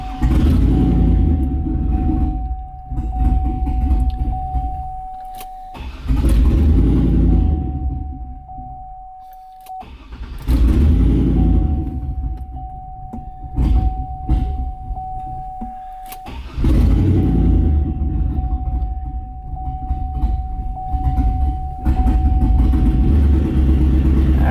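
A turbocharged LS car engine runs at a steady idle with a low rumble, broken by brief pauses and a faint continuous whine over the top.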